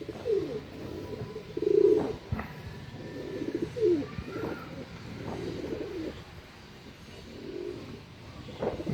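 Several soft, throaty pigeon coos come from birds in a breeding setup, repeated in short rolling phrases close by against a quiet room.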